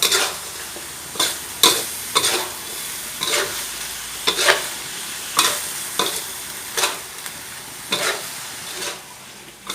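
Pork and long beans stir-fried in red curry chili paste, a close, continuous sizzle punctuated by sharp, regular spatula scrapes and clacks against the pan, roughly one every second, with no voices.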